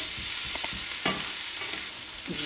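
Onion frying in a pan for a spinach and ricotta cannelloni filling, a steady close sizzle broken by a few clacks of stirring, with no one speaking.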